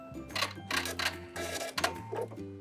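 A sewing machine back-stitches the end of a T-shirt sleeve seam, running in several short mechanical bursts with brief pauses between them over a steady low motor hum.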